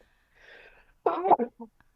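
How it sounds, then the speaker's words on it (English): A single close sneeze bursts out after a soft intake of breath, followed by a brief trailing sound. "hold on, I'm gonna sneeze"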